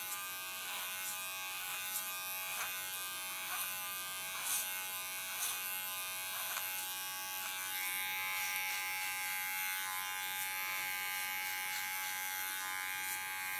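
Electric hair clipper buzzing steadily as it cuts a woman's fine but strong hair guided through a comb, a continuous close whine with small shifts in tone as it moves.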